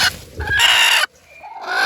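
A native country hen clucks close by in a couple of short, loud bursts with a brief gap between them.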